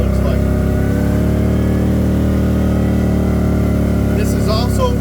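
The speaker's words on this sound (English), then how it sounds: "I do apologize for my exhaust. It's an RJWC cross flow, so it is a little bit loud." A CFMOTO fitted with a loud RJWC cross flow exhaust runs with a steady, droning engine note at a constant level, and the sound stays loud and close throughout.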